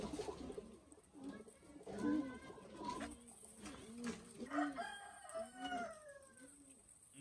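Soft, repeated coos from old-breed Sialkoti pigeons murmur in a low rhythmic pattern, fairly close, with faint background noise around them.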